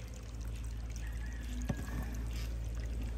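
A strong stream of water pours out of an overflow, a loud continuous rushing splash close by with a brief knock partway through.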